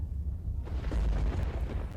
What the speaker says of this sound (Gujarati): આ વરસાદી માહોલ વચ્ચે વીજ ડીપીમાં કડાકા ભડાકાના દ્રશ્યો છે